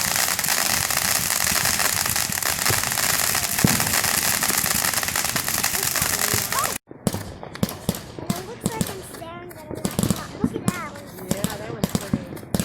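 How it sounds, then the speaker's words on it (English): Fireworks at a lake show: a dense, continuous crackling barrage at first, then after a sharp break a series of separate pops and bangs, with people talking over the later part. "actual fireworks. They're getting bigger every time."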